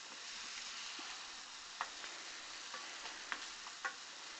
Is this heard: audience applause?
no